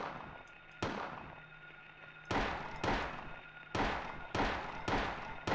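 Pistol shots fired in the Silent Hill video game, a series of sharp, loud reports, one early, then a rapid cluster of five more at a fairly steady pace, each with a short decaying tail over a low ambient hum.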